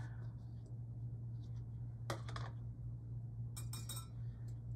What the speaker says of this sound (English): Just gonna mix that all together now.